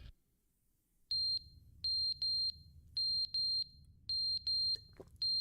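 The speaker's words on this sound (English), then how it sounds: "How does the fire alarm still have battery?" A smoke alarm with a low battery chirps in short high-pitched beeps, some in quick pairs, over a steady low rumble inside the game The Stanley Parable, with no talking.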